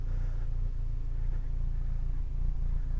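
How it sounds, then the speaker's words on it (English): A warmed-up 2-litre engine of a 2000 Citroën Xsara VTS idles with a steady low rumble, even and continuous throughout, close by. "the 2-litre engine in action"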